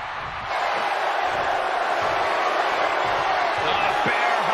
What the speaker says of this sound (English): I am feeling a titanic shift roaring through this crowd right now